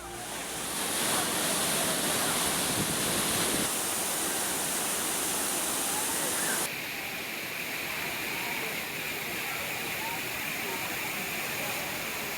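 Thirparappu waterfall in Kanyakumari, Tamil Nadu, crowded with bathing tourists, gives a constant, dense roar of falling water that stays loud and unbroken throughout, with only a slight shift in tone partway through.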